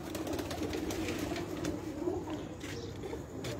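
Low, soft cooing of pigeons on a rooftop in Mianwali, repeated murmuring calls over a steady background hum.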